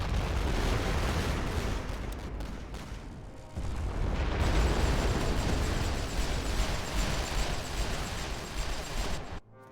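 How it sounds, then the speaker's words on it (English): Sniper rifle fire in a First World War video game, a dense barrage of overlapping gunshots and booming blasts rolling on continuously at loud volume with no pause. "Oh, it's sniper rifles."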